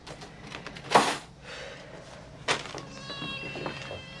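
House cat meowing while being given medicine, several protesting meows and cries at close range, with brief handling noises between them.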